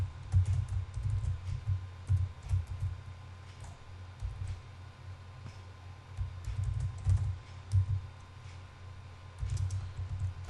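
Someone types C++ code on a computer keyboard, with steady quiet clicking of the keys in irregular bursts and short pauses for about ten seconds and no voices.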